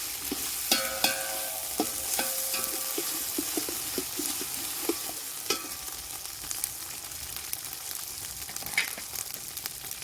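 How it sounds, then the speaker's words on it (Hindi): A chili, garlic and ginger paste sizzles and crackles while frying in a pot, with occasional scraping taps of a spoon stirring it. "इसको हल्का सा फ्राई करना है,"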